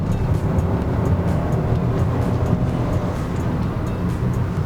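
Chevrolet Onix Plus with a 1.0 turbo engine accelerating, a steady low engine drone with road rumble heard from inside the car, fairly loud and continuous, with no talk.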